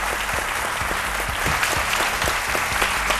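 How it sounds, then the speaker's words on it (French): A studio audience on a French television set applauds a guest who survived a Boko Haram attack, a dense, steady burst of clapping that fills the whole moment at an even level. "Je vais vous demander, mesdames et messieurs, de l'applaudir très très fort."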